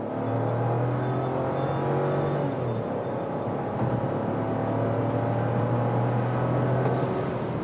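A car pulls away hard from a standstill with the air conditioning off, its engine drone loud, close and steady for the whole stretch, with no clear tire squeal standing out.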